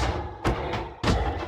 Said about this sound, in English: when you hit a mob normally, it sounds like this